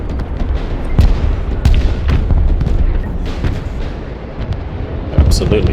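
Heavy artillery fire in the Broken Arrow war game booms repeatedly, with several loud, deep blasts spaced about a second apart over a rumbling battle din.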